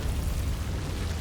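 Low, rumbling aftermath of a Confringo spell explosion in Hogwarts Legacy rolls on steadily and fairly faintly, a dull boom-like roar with no voices.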